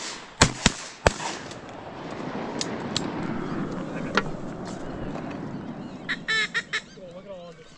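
Three sharp, loud shotgun blasts in quick succession ring out while teal duck hunting on a Minnesota opener, followed by a long outdoor wash, distant bird honks and brief hunter chatter.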